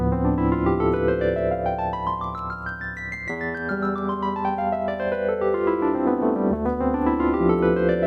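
Violins play quick rising runs of triplets, climbing steadily in pitch, then dropping and climbing again. The sound is bright, continuous and purely instrumental.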